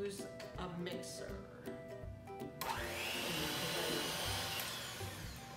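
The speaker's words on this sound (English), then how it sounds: "And the first part, you are going to use a mixer." An electric mixer starts up and runs with a steady whirring drone that builds and holds, following some clattering kitchen sounds, with a person talking faintly underneath.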